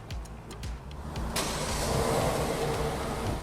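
A Kia car starts by remote start, a soft click and whir followed by the engine catching and settling into a steady idle heard from close by outside.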